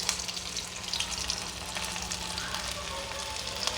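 Potato kebabs shallow fry in hot oil, a close, continuous crackling sizzle with scattered sharper pops across a few seconds, and no voices.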